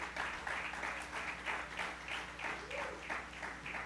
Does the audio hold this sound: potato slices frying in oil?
no